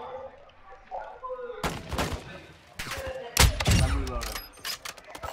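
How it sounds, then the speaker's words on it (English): Enemy gunfire in a Call of Duty game, bursts of loud, sharp shots and heavy thumps beginning after a quieter start and recurring irregularly, with someone talking between and over them. "I'm taking enemy fire!"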